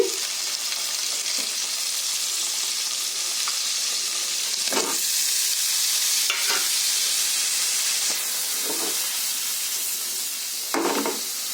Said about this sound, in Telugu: మనం ముందుగా కట్ చేసి పెట్టుకున్న పన్నీర్ని ఫ్రై చేసుకోవాలండి. లైట్గా ముందుగా ఫ్రై చేసుకోవాలి.